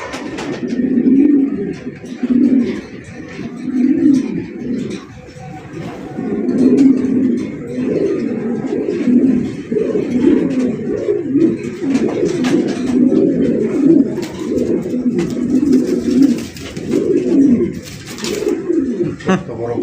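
Pigeons at a pigeon farm coo steadily in repeated low, throaty phrases, layered over one another as if several birds are close by, with faint background noise.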